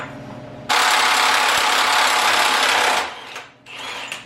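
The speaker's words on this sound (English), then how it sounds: "time to get the crank nut off" A power tool with a 36 mm socket spins off the crank nut on a BMW M30B35 engine: one loud, sustained buzzing burst of about two seconds, then a shorter, quieter whir.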